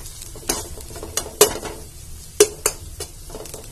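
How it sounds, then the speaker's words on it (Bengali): Grated carrots for carrot payesh fry in a pan with a continuous soft sizzle, punctuated by a few crisp clinks of a spatula scraping and stirring against the pan, close up with no voices. "দেখুন আমার গাজরগুলি পুরা ভাজা হয়ে গেছে"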